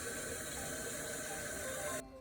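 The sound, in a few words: cold water filling a pitcher of sun tea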